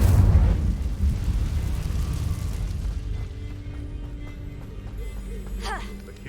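Fire spell cast in the video game Hogwarts Legacy, a loud whooshing burst of flame at the outset settling into a sustained roar that gradually thins, with faint game effects near the end.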